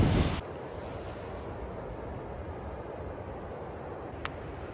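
Wind blows steadily outside a tent in cold weather, a constant broadband rush buffeting the microphone, louder in an opening gust and then holding even, with a faint brief tick near the end.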